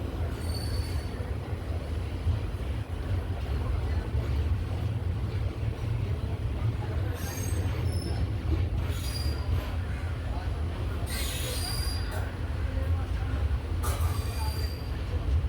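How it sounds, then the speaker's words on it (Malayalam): A passenger train pulls out of platform 2 at Thiruvananthapuram Central station, a continuous low rumble of rolling wheels with faint high squeals and clanks coming and going. "തിരുവനന്തപുരം സെൻട്രൽ പ്ലാറ്റ്ഫോം നമ്പർ 2 നിന്ന് നമ്മുടെ ട്രെയിൻ അങ്ങനെ എടുക്കുകയാണ്"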